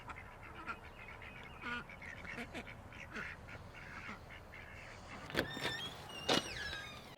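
Ducks quack faintly at a distance in a few scattered calls, with a couple of louder quacks near the end over quiet outdoor background noise.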